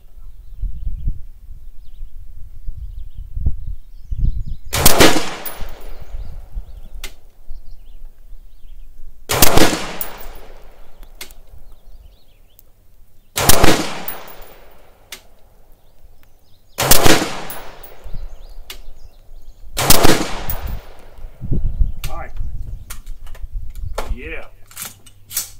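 Five loud, sharp rifle gunshots fired with 77 grain ammunition in a five-round group, spaced roughly four seconds apart, each with a ringing decay, with quiet shuffling and handling noise between shots.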